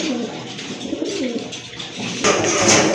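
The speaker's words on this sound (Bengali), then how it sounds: "এক জোড়া কবুতর বিগ সাইজের কবুতর খুবই ডাকে" Large pigeons for sale coo close by, with soft repeated throaty warbles rising and falling over a steady background hiss and a brighter burst of noise near the end.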